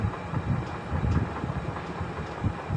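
A metro train pulls into a station platform, a steady low rumble with rhythmic clatter of the rail cars running continuously at moderate level, with no voices.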